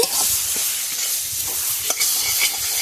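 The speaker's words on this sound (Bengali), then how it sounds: "একদম কষিয়ে কষিয়ে বানাচ্ছি" A dish of foraged wild ingredients slowly cooking down in a pan, with a constant bright sizzle and repeated spoon-stirring scrapes close by.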